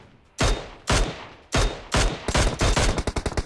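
Gunfire in PUBG Mobile: several loud, close single shots spaced apart, then a rapid burst of automatic fire toward the end.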